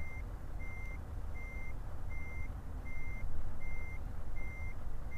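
Steady, evenly spaced reversing beeps from a truck backing up in Euro Truck Simulator, repeating about seven times over a continuous low engine rumble.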